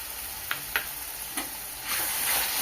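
Ginger garlic paste and chopped tomato sauté in oil over softened onions for a Bengali shrimp malai curry, giving a steady close sizzle with a few sharp stirring clicks before the frying swells louder near the end.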